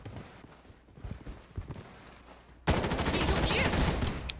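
Quiet shuffling gives way to a sudden, sustained burst of loud rapid gunfire in the video game Blood Strike that continues to the end.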